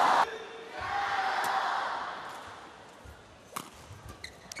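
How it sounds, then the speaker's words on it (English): A badminton semifinal crowd, Wang Zhi Yi against Chiu Pin-Chian, swells into broad cheering that gradually fades, with a few sharp shuttle hits near the end. "Crowd getting behind wall number 2."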